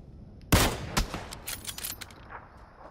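A single sharp sniper rifle shot in a video game cracks out suddenly and close, followed by a few fainter scattered shots and echoing reports as it fades.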